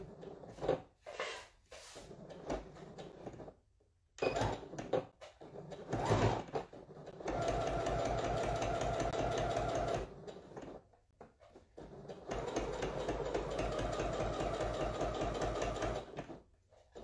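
Sewing machine stitching a leather cat-shaped coin purse, with two sustained runs of steady mechanical whirring separated by short pauses and handling clicks, close and fairly loud.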